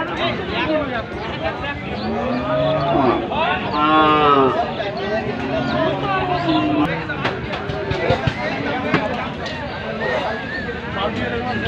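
Cattle moo repeatedly at a cattle market, loud and close, with long drawn-out lowing calls overlapping amid a murmur of people in the background.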